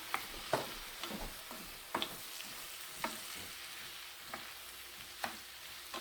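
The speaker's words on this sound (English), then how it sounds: "I'm gonna add a little bit of wine here." Wine going into a pan of sausage, giving a quiet, steady sizzle broken by periodic light clacks and scrapes of a utensil in the pan; no talking.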